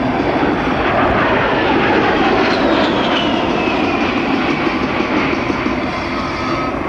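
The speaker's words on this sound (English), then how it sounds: "Captain Green is now repositioning the aircraft to perform a level 360-degree high-G turn." A USAF A-10 Thunderbolt II jet flies a level 360-degree high-G turn at an airshow, a loud, steady roar of turbofan engines with a slowly sweeping whine sustained throughout, no voices.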